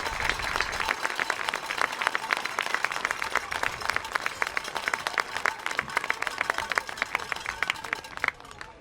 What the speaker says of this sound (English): One more round of applause, please, for Canfield High School.